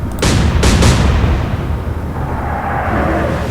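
Naval gun turret firing in the Atlantic Fleet video game: a heavy, loud boom up close, followed by a quick second blast and a long rumbling roar that slowly fades, with no talking.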